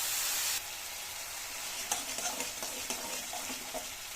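Ground spice paste dropped into a hot pan and frying for a vegetarian potato dum, a brief burst at the start then a soft, steady sizzle with a few light stirring scrapes and taps.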